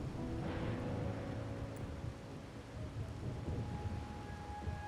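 In a video game scene, steady heavy rain pours while low thunder rumbles and rolls near the start and fades into the downpour, with no voices.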